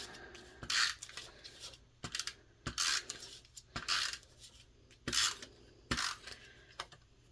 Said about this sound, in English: So we'll glue that with a tape runner.